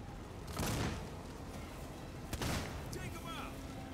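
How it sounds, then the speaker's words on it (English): Gunfire in the horror video game Alien Isolation: two loud, broad blasts about two seconds apart, each with a short rumbling tail, over low ambient game noise. "You heard a gunshot."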